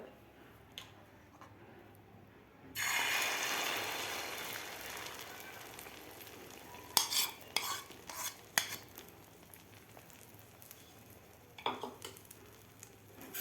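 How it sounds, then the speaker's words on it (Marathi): A loud hiss as beaten egg mixture hits a hot iron griddle, settling into steady sizzling, followed by scattered close scrapes and taps of a utensil. "आता यावर आपल्याला हे अंडीचं मिश्रण घालायचं आहे तव्यावर"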